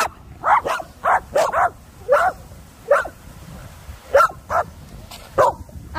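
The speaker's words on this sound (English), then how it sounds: "What are you barking at?" Dog barking outdoors near Ingleton Waterfalls, a close, loud series of about a dozen sharp barks in uneven bursts over a low background rush.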